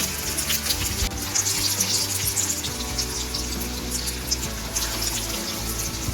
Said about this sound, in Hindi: अब हम इसको फ्राई करते हैं।